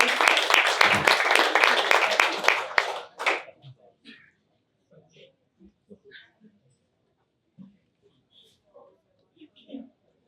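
Brief applause from a startup summit audience, a dense burst of clapping lasting about three seconds before cutting off, followed by near silence with scattered faint small sounds.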